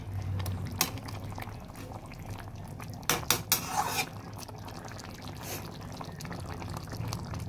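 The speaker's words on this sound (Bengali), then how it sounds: "ভালোভাবে নেড়ে দিচ্ছি।" Food, small jhatka fish with potatoes, is stirred in a cooking pot. Faint metallic scrapes and a short cluster of clanks sit over a low simmering background.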